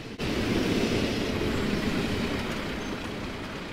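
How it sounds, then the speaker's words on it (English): A commuter train races through a station in Cincinnati, a loud, broad roaring rush that starts abruptly and holds steady before easing slightly, with no talk over it. "Another commuter is absolutely flying as it shoots through the station."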